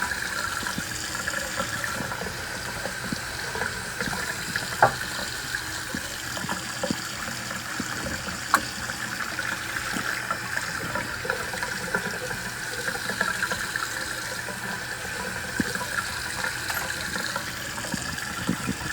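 Steady running water pours and splashes continuously while rinsing aquarium filter media, with occasional faint clicks and knocks, and no voices.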